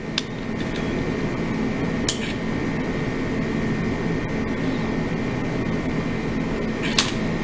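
A busted toy morpher with its key inserted gives off a steady, hollow electronic drone, with a faint tone held throughout and two brief sharp clicks, one near the middle and one near the end.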